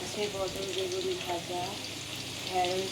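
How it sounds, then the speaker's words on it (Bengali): Potatoes fry in oil in a wok with a soft, steady sizzle while someone talks over it in a home kitchen. "ভাজা হচ্ছে কড়াইতে ভাজা এখানে ভাজা আলু ভাজা"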